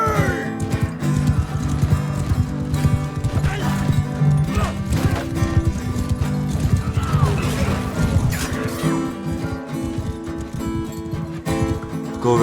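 Cavalry horses gallop in a large battle in Mount & Blade II: Bannerlord, with a steady clatter of hooves, occasional neighs and crashing clashes layered over a busy, loud battlefield din.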